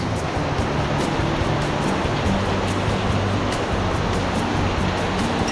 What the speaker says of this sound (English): Ocean's churning up a little. We got a few waves